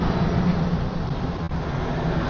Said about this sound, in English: but it's just too much traffic noise for me